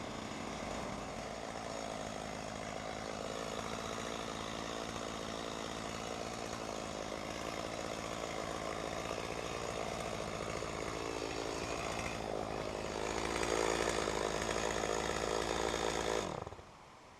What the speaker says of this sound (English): Some branches are large enough for firewood, so I cut them up.